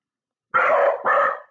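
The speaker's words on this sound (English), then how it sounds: "That's why the dogs were barking." Two loud dog barks in quick succession, close by, with no other sound around them.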